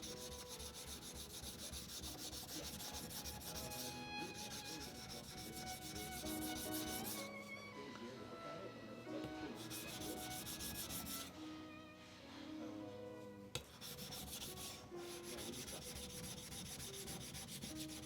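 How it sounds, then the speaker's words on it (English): A knife being sharpened on a Shapton Rockster 320 grit whetstone, steady rhythmic rubbing and grinding strokes, close and continuous with brief pauses, no voices. "This one here is a Shapton Rockster 320 grit stone. It evens out the bevel very nicely."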